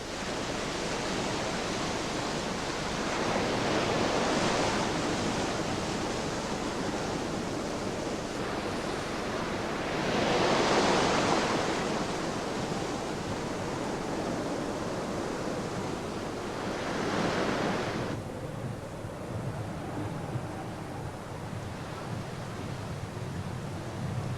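Ocean swell and waves wash steadily around a boat at an unprotected anchorage off a remote island, a broad continuous roar with three slow surges of breaking surf, with no voices.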